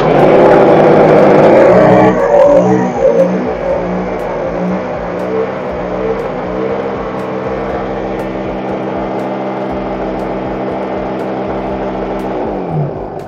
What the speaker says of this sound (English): There is a very, very huge variation in the sound of the generator.